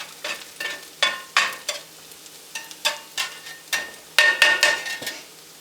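Onions and peppers fry in a cheap skillet with repeated loud bursts of sizzling and stirring, a spatula scraping and knocking against the pan in an uneven rhythm, close up with no talking.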